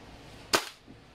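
WE M4A1 airsoft gun fires a single BB through a chronograph: one sharp, close crack with a short decay, alone in a quiet room.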